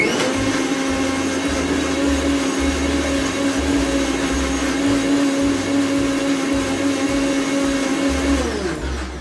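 An electric kitchen mixer grinds masala paste for chicken, a steady loud motor whine running without a break for several seconds, with its pitch holding constant until it winds down at the very end.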